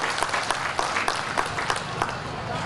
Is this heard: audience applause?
yes